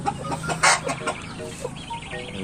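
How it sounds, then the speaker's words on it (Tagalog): Chinese and Rhode Island chickens clucking close by on a farm, a dense overlapping chorus of short calls with one louder squawk near the middle and steady low murmuring beneath. "Ito yung ating Chinese chicken. Ang ating mga Rhode Island."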